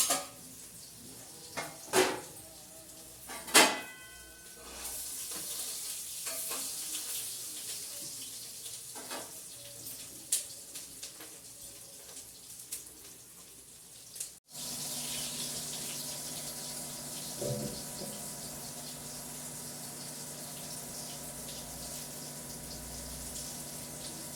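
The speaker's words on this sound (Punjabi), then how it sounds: "ਭਾਂਡੇ ਮਾਂਜ ਲਾਂਗੇ ਕਾਫੀ ਪਏ ਨੇ ਅੱਜ ਭਾਂਡੇ" Dishes washed by hand at a sink under running tap water in a Punjabi village home, with a steady splashing stream and occasional clinks of pots and utensils, near and fairly quiet, no talk.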